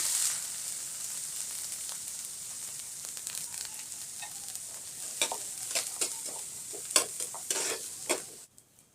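Garlic cloves, green chilies and onion fry in a hot pan with a steady sizzle. Scraping stirs break through it in a quick run toward the end before the sound cuts off, and no one speaks.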